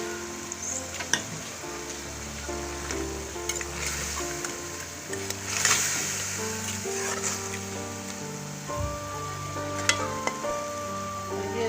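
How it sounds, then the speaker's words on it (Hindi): Chicken liver goes into a pan of frying masala and sizzles steadily. The crackle holds at a close, even level, with tonal background sounds running underneath. "ये मैं कलेजी शामिल कर रही हूँ"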